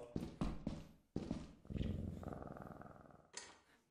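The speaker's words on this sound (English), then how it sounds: "Found two cats today." Cat purring and meowing in the video game Lethal Company, a few short bursts followed by a sustained low purring rumble, close and moderately loud with no talk over it.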